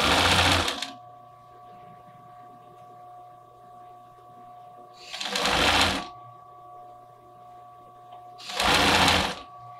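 A sewing machine runs three bursts of stitching as bias binding is sewn onto a girl's bodysuit, with the front binding left unstretched. A steady mains hum sits between the bursts, and no one speaks.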